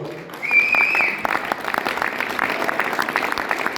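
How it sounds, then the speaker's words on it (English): Audience applause fills a training seminar hall, a steady wash of many hands clapping that starts with a swell and carries on evenly, with a brief whistle-like tone near the start. "Give yourself a big round of applause"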